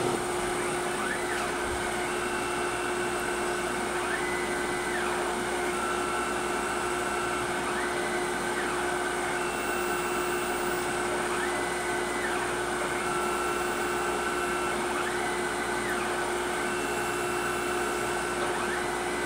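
A Tormach surface grinder works 4140 steel, a loud steady motor whine with a constant tonal hum and faint periodic rising and falling sweeps as the table traverses back and forth, no talk.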